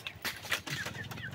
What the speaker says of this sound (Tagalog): Papakain tayo dito sa ating mga manok.